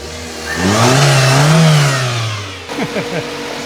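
A car with a full body kit revs hard, its engine note climbing and holding loud and close before dropping off, followed by a voice speaking.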